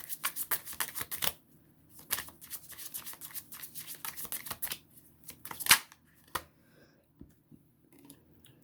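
Tarot cards being shuffled and drawn by hand for a three-card reading, close crisp riffling bursts and soft flicks separated by short pauses, fairly quiet with no talking.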